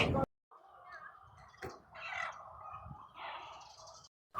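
Chickens at a poultry farm cluck and gobble in a steady chorus of poultry calls, with a short burst of noise at the start and end.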